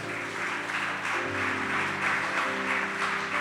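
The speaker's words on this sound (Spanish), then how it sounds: "Dele un fuerte aplauso al Señor." A church congregation applauds during a Resurrection Sunday service, a soft, steady patter of clapping blended with sustained music in the background.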